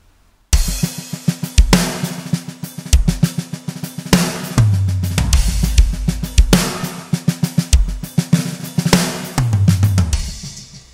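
Processed, mixed snare drum played in a steady groove, sounding fuller and punchier with a bright, sustained crack on each hit and a low-end thump underneath; loud and continuous, with no speech.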